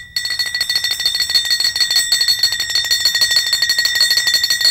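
Kartal hand cymbals played for kirtan, a quick, even rhythm of bright, ringing metallic jingles sustained without pause, close and loud.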